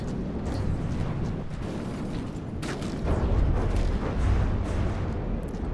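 Artillery guns firing shells in the naval combat game From the Depths, a continuous low rumble of overlapping booms that swells louder midway, with no voices.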